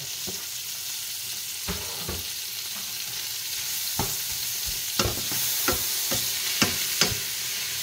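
Cabbage stir-fries in a hot pan for a keto shirataki noodle dish: a constant loud sizzle broken by regular sharp scrapes and taps of the spatula, heard close up with no voices.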